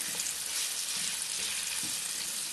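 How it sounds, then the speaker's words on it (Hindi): Boneless chicken strips for chow mein fry over fairly high heat, giving a dense, even hiss close by with a few soft scraping stirs and no speech. "अब इसके अंदर मैं सारा चिकन ऐड कर दूंगा।"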